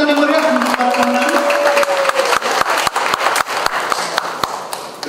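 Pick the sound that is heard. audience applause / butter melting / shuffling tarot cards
audience applause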